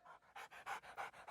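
A dog pants rapidly and rhythmically close up, with about eight quick breathy huffs in an even pattern and nothing else heard.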